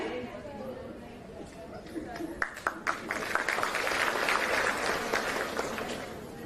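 An audience at a women's rally in Sindhudurg breaks into scattered clapping that builds into fuller, steady applause, with crowd chatter and a speaking voice over it.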